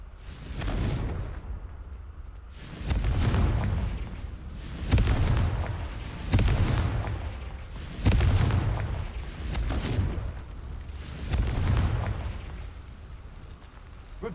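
Repeated booming explosions from the Confringo blasting curse in the Hogwarts Legacy video game roll out in rapid succession, each heavy, rumbling blast overlapping the next in a dense, continuous barrage.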